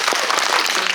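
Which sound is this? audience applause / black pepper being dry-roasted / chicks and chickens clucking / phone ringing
audience applause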